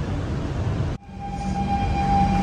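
A Singapore MRT train runs through the station with a loud, steady rumble that cuts out sharply for a moment, then returns with a faint high electric whine, no voices.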